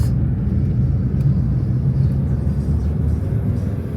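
Car cruising along winding country roads in the Romanian countryside, a steady low engine and road rumble running close and unbroken throughout.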